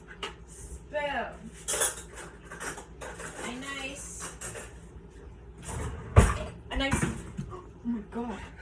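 Metal spoons and dishes clatter and clink in a kitchen drawer as a spoon is grabbed while making microwaved KD, with a sharp knock near the end and a person talking over the rattling.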